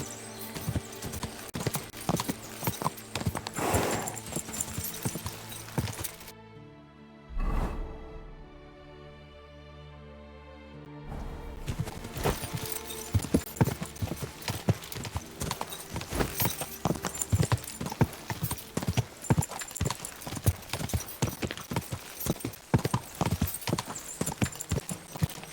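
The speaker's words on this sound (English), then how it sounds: "The horses have their work cut out to haul us." Horses' hooves clip-clop steadily on a road in the medieval video game Kingdom Come: Deliverance II, a loud, close rhythmic trot that breaks off briefly for a few seconds before resuming.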